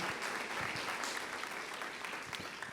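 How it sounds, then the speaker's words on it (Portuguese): A church congregation applauds during a service, a brief and fairly soft patter of many hands clapping together with little else audible. "Vamos aplaudir a Deus por essas vidas"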